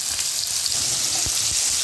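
Dense, steady sizzling of potatoes and vegetable stalks frying in oil, close and loud, with a couple of soft stirring knocks.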